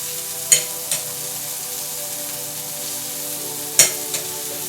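Turmeric powder and ginger garlic paste are stirred in a frying pan for a bell pepper ring omelette, with a steady low sizzle throughout and a few sharp utensil scrapes near the start and again later.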